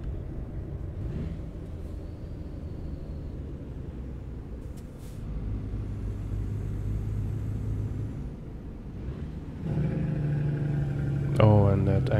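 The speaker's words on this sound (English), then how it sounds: "Oh, and that engine brake." A heavy truck engine rumbles steadily, then near the end a louder, throaty engine brake kicks in with a rising, rattling roar.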